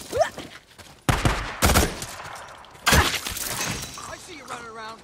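Gunfire in the game Days Gone comes as several loud, sharp bursts spaced a second or two apart, with a shattering edge and a lingering tail between shots.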